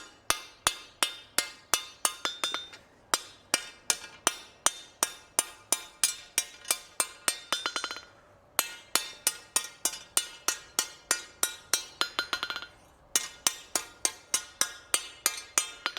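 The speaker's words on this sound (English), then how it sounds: "Hopefully they can hear me while I'm hammering." Hammer blows ring out on metal at an anvil during forging, a long steady series of sharp, bright clinks in quick regular rhythm with two brief pauses, loud and close.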